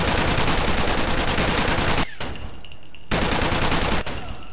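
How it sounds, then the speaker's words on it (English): Gunfire in a video game, dense rapid bursts of automatic shots in two loud stretches separated by quieter gaps with faint ambient noise. "Captain, I'm under fire."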